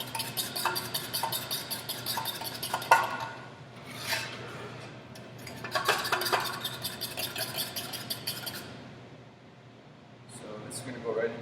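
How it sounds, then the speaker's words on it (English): Two cracked large eggs are whisked in a bowl for fresh pasta, a fork clinking and scraping rapidly against the dish in bursts while a person talks over it, with a low hum of room noise beneath. "in here I have 2 eggs, cracked 2 large eggs, and you want to mix these up a little bit"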